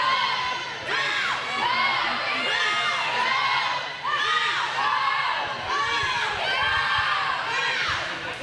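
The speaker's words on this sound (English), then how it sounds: "as you can hear, everybody cheers" Swimmers at a high school senior-night swim meet cheer and shout continuously from the pool deck. Loud, echoing yells rise and fall in repeated waves for several seconds without a break.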